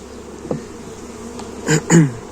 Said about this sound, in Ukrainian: Це рамка з бджолою.